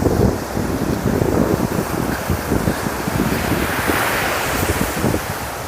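Sea waves wash onto the shore where the sea meets a backwater, a continuous loud surging roar mixed with buffeting wind, no voices.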